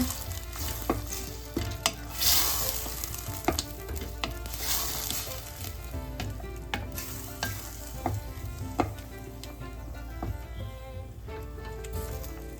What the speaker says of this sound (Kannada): ಈ ಮಸಾಲೆನ ಫ್ರೈ ಮಾಡ್ಕೊಳ್ಳೋಣ